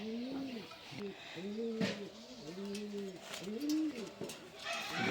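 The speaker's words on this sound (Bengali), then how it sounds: "অনেক সুন্দর একটা কবুতর" Racing pigeons coo nearby in repeated soft, rolling calls, several overlapping phrases in a steady rhythm over faint background noise.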